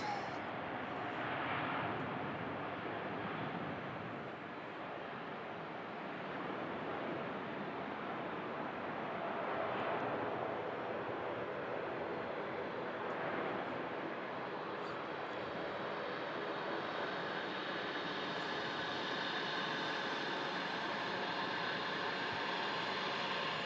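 An Etihad airliner passes at Manchester Airport, its broad engine roar rising and falling steadily for the whole span with a faint hiss on top, fairly distant; a voice is heard briefly.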